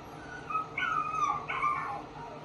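Dog whimpers, yips and howl-like cries play from a television, two drawn-out whining bursts over a quiet room hum, fairly faint and without talk.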